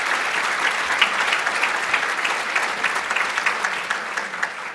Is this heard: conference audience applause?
yes